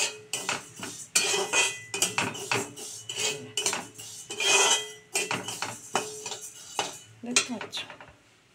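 Mung dal, fried until red, being washed in a metal pot: close, busy metallic clatter with scraping and rubbing, and a brief bit of speech partway through.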